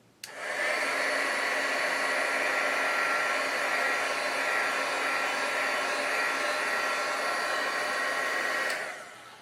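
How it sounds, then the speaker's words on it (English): A crafter's heat tool blasts hot air across a watercolor panel to speed-dry it, a steady close whooshing hum that starts abruptly, runs unbroken for about eight seconds, then cuts off. "If you're a crafter and have access to a heat tool, this is a great occasion to make use of it, and simply to speed dry the whole panel."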